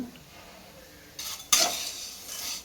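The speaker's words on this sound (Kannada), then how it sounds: "ಇದನ್ನ ಸ್ವಲ್ಪ ಫ್ರೈ ಮಾಡ್ಕೊಳ್ಳೋಣ. ಸ್ವಲ್ಪನೇ ಹುರ್ಕೊಂಡ್ರೆ ಸಾಕು." Noodles frying in a pan, with a brief scrape of stirring followed by a soft sizzle that swells and fades, close and fairly quiet.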